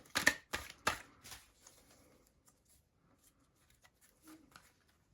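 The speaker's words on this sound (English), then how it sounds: "I'm going to riffle shuffle these as well." Tarot-style archetype cards being riffle shuffled close up, a few quick crisp ruffling bursts followed by soft settling taps and near silence.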